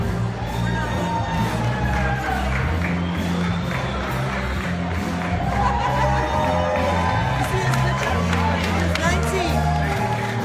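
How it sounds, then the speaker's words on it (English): A large crowd cheers, whoops and shouts continuously at a veterans' Honor Flight homecoming, with children's voices and scattered clapping in a dense, loud wall of noise. "Look at this crowd."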